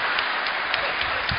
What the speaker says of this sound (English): And what are you clapping for?